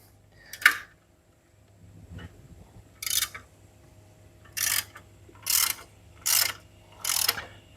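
Ratchet working a 14 mm bolt on the idler pulley plate of a Jeep Wrangler engine, heard as several short, bright bursts of rapid clicking spaced about a second apart, close and fairly loud, with no talking.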